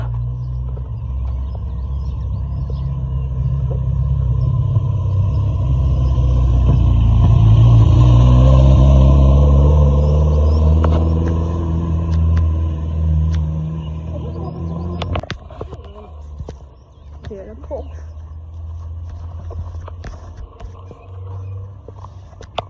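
A Mercedes SEL passes by with a low engine rumble that swells as it nears, peaks, and fades away, followed by some faint handling noises.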